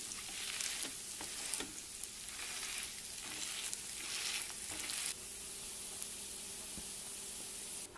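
Potato patties for mini pizza crusts frying in a pan, a continuous close hiss and sizzle with a few short bursts where they are pressed and spread, no voices.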